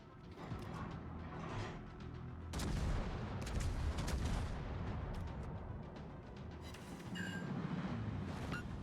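Heavy naval guns from the battlecruiser Alaska boom in World of Warships, firing at the destroyer Kagero, with deep, loud blasts and rumbling over a constant engine and ocean drone, no talk.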